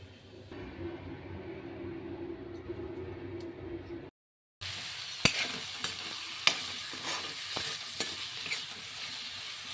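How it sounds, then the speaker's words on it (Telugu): Amaranth leaf curry frying in a pan, a steady sizzle with stirring, then a brief silence and a brighter, louder sizzle marked by sharp utensil scrapes. "కూర వండుతానండి, కూర వండి చూపిస్తాను మీకు."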